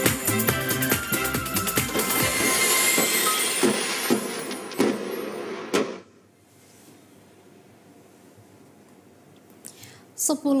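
A train at Baturaja station, South Sumatra, rumbles and clatters loudly with a high metallic squeal, then cuts to a quiet hum before brief knocks at the end.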